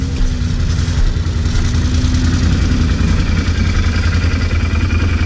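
Loud, close ATV engine, an Outlander 800 or Sportsman 800, revving and idling with a steady throaty rumble that holds for the whole stretch, no talking over it.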